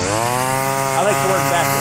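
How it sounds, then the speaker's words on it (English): A string trimmer cuts lawn grass with a loud, steady high-pitched engine whine that wavers slightly as the head works, close up and alone. "So first I'm going to go ahead and trim this yard."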